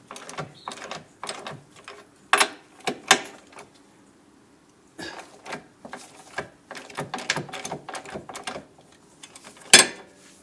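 A hand wrench works loose the bolts on a Porsche 911's rear spring plates, giving close, irregular metallic clicks and ratcheting taps in short bursts with quiet gaps between them, and no voices.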